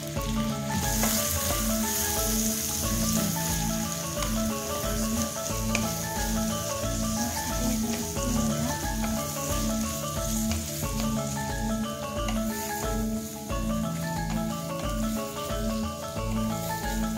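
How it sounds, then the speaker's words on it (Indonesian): Chopped garlic sautés in a pan with a steady, continuous sizzle and hiss that runs throughout, blended with background music. "Bawang putih cincang kita tumis sampai harum."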